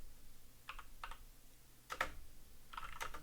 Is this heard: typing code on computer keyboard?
yes